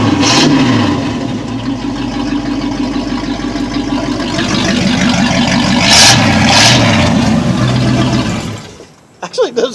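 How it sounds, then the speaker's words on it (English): A Chevy K10 truck engine runs with the exhaust disconnected, a loud, raw, unmuffled rumble held steady close by with a couple of revs before it cuts off abruptly near the end. "Let's listen to this without exhaust."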